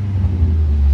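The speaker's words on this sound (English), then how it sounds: "Rev it? Should give it a little. Give it a little bap." Straight-piped Ford Fusion exhaust giving a short rev, a loud deep rumble building over about one second close by.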